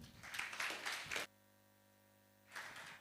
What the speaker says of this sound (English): Let's clap for Sydney.